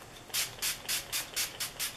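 Seven quick, evenly spaced spritzes of a dewy makeup finishing spray, each a short bright hiss, close and alone in a quiet room.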